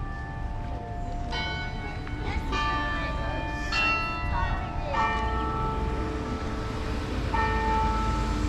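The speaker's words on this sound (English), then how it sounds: "The bells ringing actually give it a nice" Church bells ringing in the small lakeside town of Bigfork, Montana, heard outdoors on a street walk; several resonant, overlapping strikes sound across the clip, fairly prominent over steady ambient street noise.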